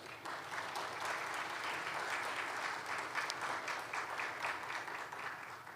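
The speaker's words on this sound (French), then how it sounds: "je vous invite à applaudir nos formateurs" An audience applauds the trainers at the closing ceremony of an economics training course for journalists, with steady, dense clapping that holds at an even level throughout and sounds moderately distant.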